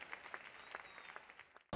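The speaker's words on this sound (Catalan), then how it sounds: "Un fort aplaudiment, sisplau." Faint, scattered clapping from a small crowd at a town festival, ending in a sudden loud burst.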